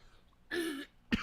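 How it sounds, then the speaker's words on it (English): A person clears their throat with a short rasping rumble, then gives a single sharp cough a moment later, both close and distinct against a quiet background. "And all this coughing,"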